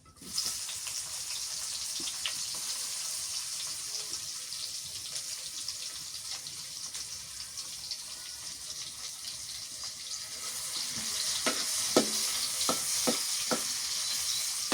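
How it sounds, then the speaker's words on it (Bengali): Onions frying in extra oil added to oil left from frying fish, a steady bright sizzle close by that swells louder near the end, with a few scraping stirs and clinks of a spoon against the pan and no talking. "ওই তেলের মধ্যে আর একটু তেল দিয়ে দিলাম পেঁয়াজ দিয়ে দিলাম"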